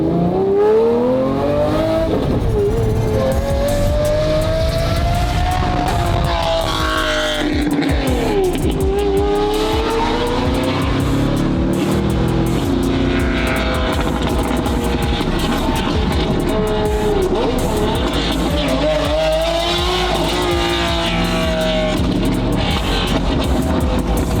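A supercar's engine revs loudly and continuously at close range, its pitch rising and falling through the gears, with tire squeal mixed in.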